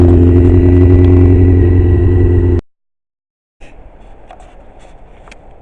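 Yamaha R6 motorcycle with refitted carburettors, its engine running steadily and loud up close for a couple of seconds before cutting to silence, then faint road rumble with a few brief clicks.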